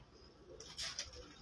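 Pigeons on a rooftop in Faisalabad give a couple of soft coos in the second half of the clip, faint and brief against low background hum.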